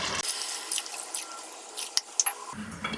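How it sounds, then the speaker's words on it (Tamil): Water runs from a tap into a pot of mutton for Arabic Yemeni mandi rice, a steady splashing pour with a few drips near the end, close and moderately loud with no talking. "இப்போ இந்த மட்டனுக்கு நம்ம தண்ணி விட போகிறோம்."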